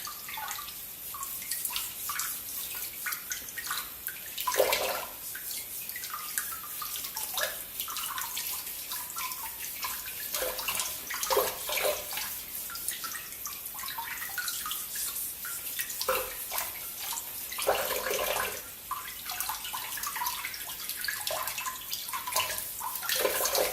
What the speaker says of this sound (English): And then what we're going to do is we're going to rinse it.